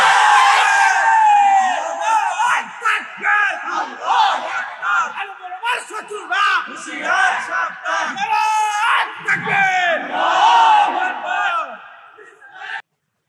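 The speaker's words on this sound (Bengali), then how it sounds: "আমাদের স্লোগান দেবে আল্লাহ আকবর" A large crowd chants the slogan Allahu Akbar in loud, rhythmic shouted bursts that repeat close by for several seconds, then cut off abruptly.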